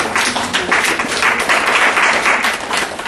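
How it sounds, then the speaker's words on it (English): Audience applause at a young entrepreneurs' seminar: dense, steady clapping from a crowd that holds at full strength throughout, with no voices over it. "Round of applause."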